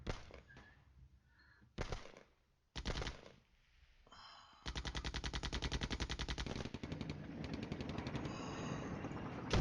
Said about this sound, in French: Qui subissent à leur tour un tir d'artillerie.